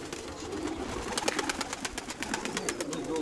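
Pigeons make a fast run of soft, rhythmic pulsing sounds at close range over a steady murmuring background, with no clear talking.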